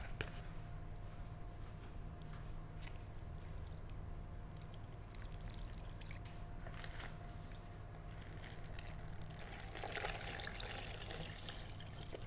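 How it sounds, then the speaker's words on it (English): Water is poured into an instant self-heating hot pot, a steady close trickle and splash running the whole time over a low background hum, growing brighter and more splashy toward the end. "now I'm gonna just put water into this pot."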